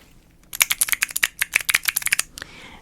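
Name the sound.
typing on a keyboard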